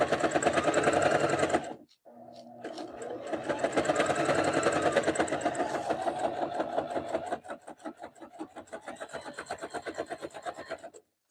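A sewing machine stitches a jelly roll rug of rolled fabric strips, its rapid needle clatter running steadily with a brief pause near two seconds, then continuing in bursts that slow and resume, close and fairly loud with no talk.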